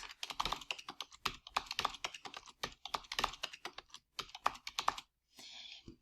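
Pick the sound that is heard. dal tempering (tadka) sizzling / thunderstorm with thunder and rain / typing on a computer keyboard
typing on a computer keyboard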